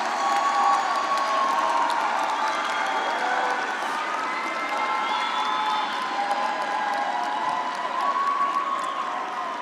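Audience applause and cheering fill a fall commencement ceremony for a College of Arts and Sciences, a steady, loud wash of clapping with whoops and shouts that holds throughout without fading.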